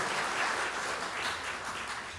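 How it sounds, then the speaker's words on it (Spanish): Applause for invited guests at a live legal panel discussion on extrajudicial conciliation and civil procedure, a steady dense wash of clapping from an audience, moderately distant and even throughout, with no talk over it. "quiero pedirles un fuerte aplauso a los, a los invitados que van a participar el día de hoy"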